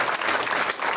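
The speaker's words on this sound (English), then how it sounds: "Let's give a big round of applause to both Sheng and" An audience at a talk claps for the speakers: a dense, steady burst of applause filling the whole short moment.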